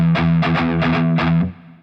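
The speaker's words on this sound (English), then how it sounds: "if you slow down the riff that's happening behind the main solo, it's going to sound like this" A slowed-down distorted electric guitar riff chugs in heavy, evenly spaced chord stabs, loud and close, then rings out and fades at the end.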